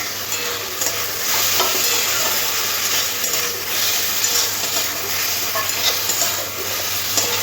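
Ridge gourd and prawns already fried with salt and turmeric are stir-fried in a pan: a steady oily sizzle with repeated close scraping and stirring strokes, and no one speaking.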